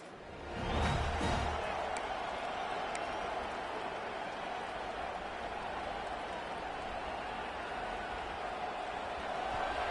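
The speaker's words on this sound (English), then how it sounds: "This crowd trying to show them what it's going to be like all day in this house." Stadium crowd at a college football game with Georgia Tech hosting ranked Florida, a broad, steady roar of cheering and applause swelling early then holding loud and continuous throughout.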